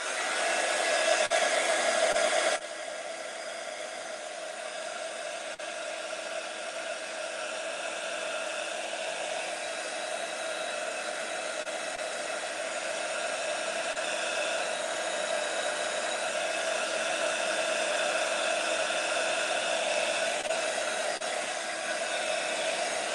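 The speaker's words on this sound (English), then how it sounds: "So I'm going to go over that again with the heat gun and just dry all that off." A heat gun drying paint on a craft project blows a steady, loud whooshing hum that runs continuously without pause, with a brief louder burst at the start.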